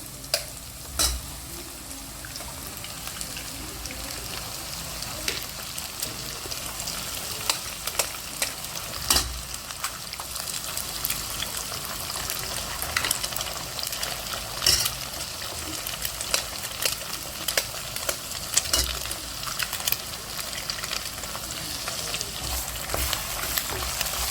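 Eggs being smashed and stirred in a pan for egg fried rice after ginger-garlic paste, a steady sizzle with repeated spatula scrapes and taps across the pan, no voices.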